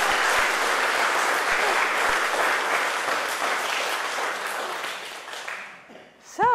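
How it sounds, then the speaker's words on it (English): An audience gives a dense, sustained round of applause at a library's 150th-anniversary presentation. The clapping fades near the end and a voice begins to speak. "one more round of applause for the Howland Center, the Howland Library"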